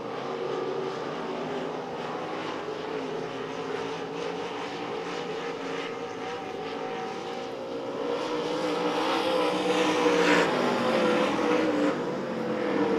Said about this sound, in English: Cars spread out on the track for this heat.